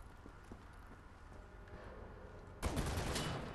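Turret gunfire in the video game Wolfenstein: The New Order: after a stretch of quiet rumbling ambience, a sudden sustained burst of rapid shots erupts near the end.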